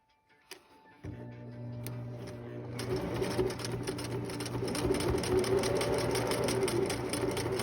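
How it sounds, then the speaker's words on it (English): A sewing machine stitches a homemade fabric face mask: after a couple of faint clicks it starts up, then runs steadily and loud with a fast, even needle rhythm to the end, no talking. "I'm going to go ahead and sew here about 1/3 of the way in, and sew here 1/3 of the way in"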